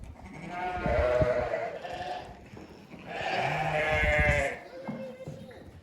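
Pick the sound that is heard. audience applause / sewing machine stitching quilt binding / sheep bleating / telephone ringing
sheep bleating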